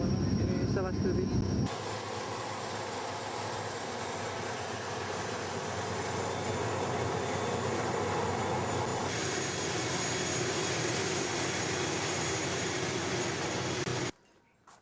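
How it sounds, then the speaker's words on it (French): Inside the cabin of a propeller airplane flying from Moorea, a steady broadband engine drone fills the space continuously, fairly quiet and even, with a brief voice near the start. "l'avion ne fait pas trop de bruit"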